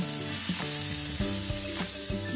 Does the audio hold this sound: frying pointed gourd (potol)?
yes